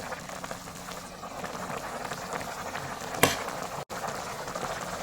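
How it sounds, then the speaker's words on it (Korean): Home-style curry with potatoes simmering in a pot, a soft steady bubbling hiss with one brief clatter near the end, quiet and without talk. "이러면 한 2분 정도 더 끓여주세요."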